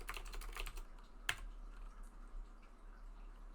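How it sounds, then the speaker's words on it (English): Soft, quick keyboard tapping in a quiet room, a short burst of clicks followed by a single sharper tap and faint scattered keystrokes. "We're typing."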